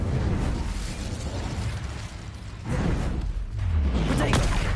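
Spell explosions in the video game Hogwarts Legacy fill the scene with a continuous roaring, rumbling blast and rushing whooshes, swelling again after a brief dip, loud and close.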